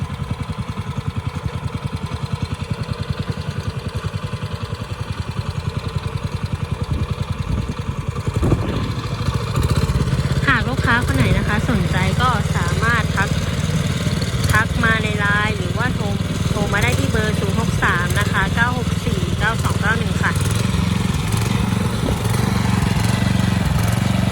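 A Mametora G510L rotary tiller engine runs steadily at close range, its loud low chugging drone continuing throughout, with a clattering texture that grows busier and louder from about the ten-second mark.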